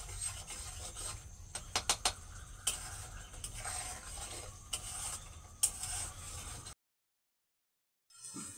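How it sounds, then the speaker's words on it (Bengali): Spice masala stirred in a cooking pan for a vegetarian pointed gourd curry: a continuous rasping scrape with sharp taps of the spoon, breaking into silence before the scraping briefly resumes. "মশলাটাকে আমি কিছুক্ষণ নাড়াচাড়া করে নিয়েছি।"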